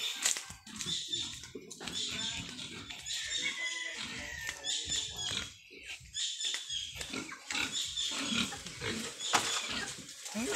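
Piglets grunt and oink busily in a pen after being unloaded from a truck, a dense, close chorus of squeals and snorts with scuffling, with occasional voices mixed in.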